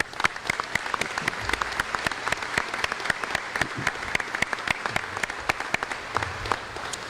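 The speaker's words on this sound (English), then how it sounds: "how about a round of applause for Sergeant Zeus's rendition of the national anthem?" A crowd at a military change of command ceremony applauds steadily, with dense continuous clapping for several seconds after a national anthem rendition.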